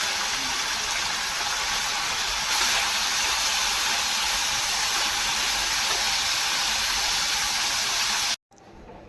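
Cut paneer pieces frying in slightly hot oil in a kadhai, a steady close broadband sizzle and hiss that holds evenly for about eight seconds, swells briefly, then cuts off abruptly.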